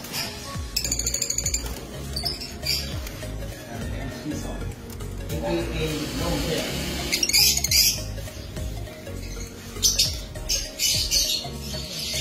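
Birds in an aviary squawk and chirp in short repeated bursts against a busy background murmur, with people talking nearby.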